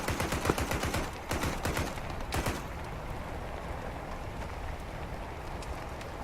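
Rapid gunfire from the video game Task Force 121 rattles in dense bursts through the first couple of seconds, then thins into a steady wash of background battle noise with no speech.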